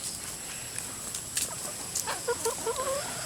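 Chickens cluck softly in a short run of quick, low calls near the end, over faint background hiss and a few light rustles.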